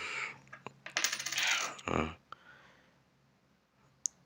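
A coin dropped and handled on a hard surface, with a burst of metallic clinking and rattling, a brief scrape, then a few isolated clicks and a final sharp tap amid quiet.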